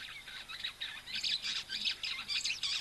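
A straw-tailed whydah calls at a waterhole, giving a run of high, rapid chirps and twittering phrases that repeat steadily at moderate distance with no talking over them.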